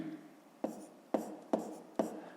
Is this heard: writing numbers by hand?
yes